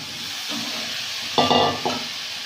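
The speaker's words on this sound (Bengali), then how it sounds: "মশলা থেকে তেল ছেড়ে গেছে ফুলকপিগুলো দিয়ে দিই" Cauliflower florets dropped into hot spiced oil in a pan, a steady close sizzle with a sharper crackling burst as the pieces go in and stirring noises following.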